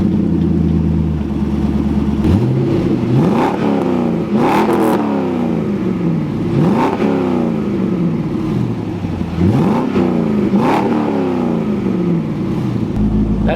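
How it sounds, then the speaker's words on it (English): A Corvette LS V8 fitted with an eBay exhaust starts up and idles with a loud, lumpy burble, then revs repeatedly in several sharp throttle blips that rise and fall, close and alone. "First startup, here we go."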